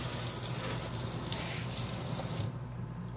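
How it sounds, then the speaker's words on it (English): Tap water gushes steadily as sprouting seeds such as mung beans and mustard seeds are rinsed in a jar, a close continuous splashing stream that thins out near the end. "Giving it a good rinse."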